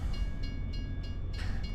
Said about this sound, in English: Stop for the train.